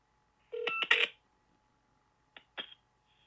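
Telephone keypad tones dialing a SpongeBob game phone number: a quick cluster of three or four beeps, a pause, then two more shorter tones, clear and isolated against a faint steady hum.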